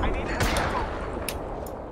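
Video game gunfire in a squad-based shooter, with several bursts of shots against a busy, continuous mix of battle noise while a player talks over it.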